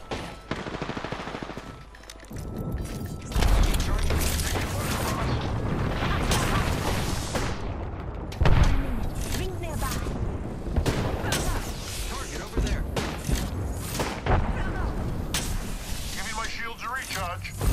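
Gunfire aimed at the player in a shooter video game, loud bursts and rapid automatic fire with heavy booms, crackling on and off across the clip while a voice talks over the action.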